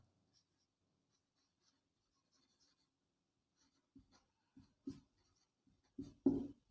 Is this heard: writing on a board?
yes